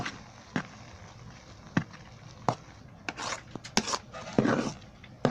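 A spoon stirs fermented idli batter in a bowl, with soft irregular taps and scrapes, some sharper clicks, and quiet wet mixing in between.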